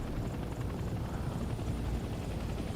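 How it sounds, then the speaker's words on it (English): A helicopter flies overhead in the Vietnam-era shooter game Hell Let Loose Vietnam, its steady rotor thump loud and close throughout with no talking. "Helicopter flying above."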